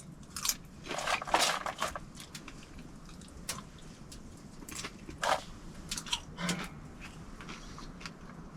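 Someone crunches and chews popcorn topped with butter and maple syrup inside a hot tent on a snowy winter day, with irregular close bites and crackly chewing bursts, no talking.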